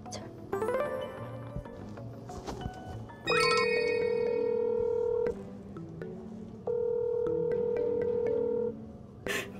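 A mobile phone places an outgoing call, with keypad-style tones followed by two long ringback tones separated by a pause, clear and close, with faint voices and movement between them.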